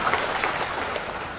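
Audience applause at an Indonesian talk, a brief wash of many hands clapping, diffuse and moderately loud without distinct individual claps.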